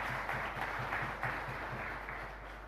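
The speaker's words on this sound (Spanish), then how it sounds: "Así que un fuerte aplauso y un saludo para el señor Hipólito" A chapel congregation applauds at a Catholic Mass, a steady wash of clapping held at even level for a few seconds, with a low hum running underneath.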